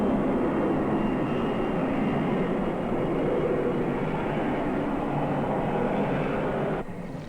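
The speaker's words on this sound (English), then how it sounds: "All along the East Coast, the last planes are taking off," Airplanes taking off along the East Coast before a winter storm in 1979, heard as a loud, steady roar of jet engines that holds throughout and drops off sharply just before the end.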